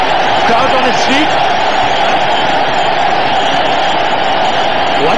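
A cricket stadium crowd at a Bangladesh vs Sri Lanka one-day international roars and cheers after a boundary, a loud, dense, sustained wash of voices that stays level throughout.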